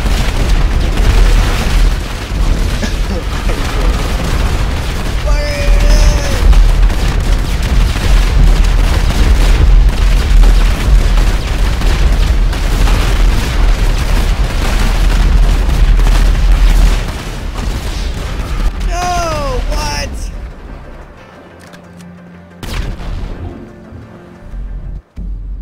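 Explosions and gunfire rumble through a GTA Online match, a loud dense barrage of booms and blasts that carries on for most of the stretch before dropping away to quieter game sounds near the end.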